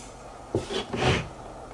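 A wooden drawer from an insect collection cabinet holding curated Orthoptera specimens slides open with a short scraping rub, then a longer sliding scrape, close and moderately loud, with no talking.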